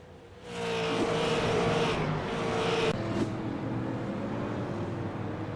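A super late model race car spins out in turns one and two at Southern National, with loud engine roar rising sharply and sustained, sliding and revving as other cars drone past.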